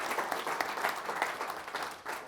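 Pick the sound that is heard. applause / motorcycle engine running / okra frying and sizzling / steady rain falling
applause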